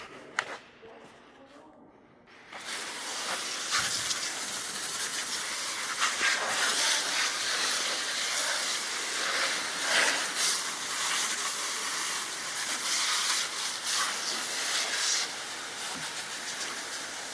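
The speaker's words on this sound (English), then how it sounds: "We want to rinse it really good, make sure all the coolant's off of everything." A water hose sprays a steady, loud rushing hiss over the engine bay of a 2011-2017 Dodge Grand Caravan 3.6L to rinse off spilled coolant. A short quieter stretch comes first, then continuous spray.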